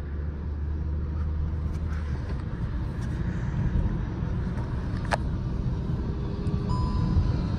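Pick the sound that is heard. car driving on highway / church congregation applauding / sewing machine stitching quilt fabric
car driving on highway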